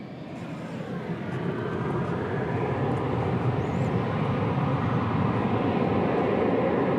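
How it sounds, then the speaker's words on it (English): An American Airlines Airbus A321 jet roars past at DFW Airport, a broad engine rumble swelling and holding loud and steady outdoors, with no clear talk over it. "There goes American Flight 599 to Las Vegas, an Airbus A321."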